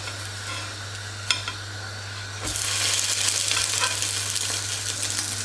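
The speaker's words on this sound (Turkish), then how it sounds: "tavama koydum ve pişmeye bırakıyorum şimdi." Oruk, a Hatay dish, sizzles in a pan brushed with a little olive oil. A low crackle jumps into a steady, close, full frying hiss halfway through and holds.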